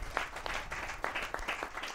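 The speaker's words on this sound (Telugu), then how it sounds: "చప్పట్లు కొట్టి దేవునికి స్తోత్రం చెప్పాలి." A church congregation clapping in praise to God, with rapid, rhythmic handclaps from a group, moderately faint and continuous through the short stretch.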